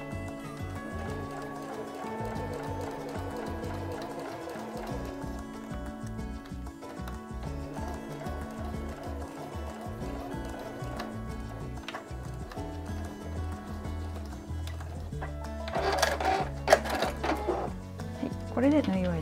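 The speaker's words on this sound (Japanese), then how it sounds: "押さえを下げて前に縫っていきます。" A sewing machine stitches a fabric pouch with a steady, close mechanical whir and rhythmic needle chatter, with a voice talking over it throughout.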